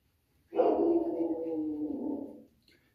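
A single drawn-out bark or howl from a dog, moderately distant, lasting about two seconds against an otherwise quiet background.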